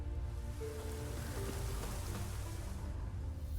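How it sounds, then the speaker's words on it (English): Steady rain falls in The Witcher 3, a soft, even hiss of drops that stays faint and continuous throughout with no voices. "Looks like rain."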